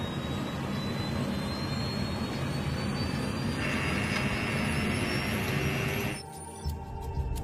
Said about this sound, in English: I simply set out towards the runway to shoot video of the Superjet 100 ascending into the skies.